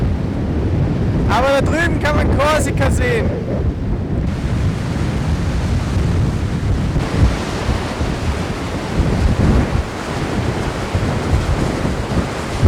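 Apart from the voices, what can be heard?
strong wind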